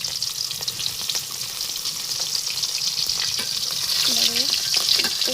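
Fish pieces fry in hot oil one at a time, making a dense, close sizzle that grows louder toward the end, with light tapping of a utensil; no one talks.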